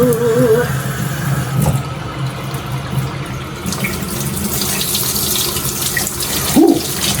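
Hot water runs steadily from a tap, a loud, close, continuous gushing and splashing that lasts throughout, with brief clunks and a faint squeak near the end and no talking.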